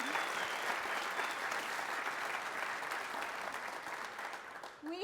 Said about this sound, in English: Can we hear another round of applause for these students,